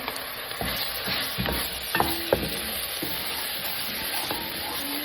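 Garlic ginger paste sizzles steadily in a pan while a utensil scrapes and taps against it in irregular strokes, close by.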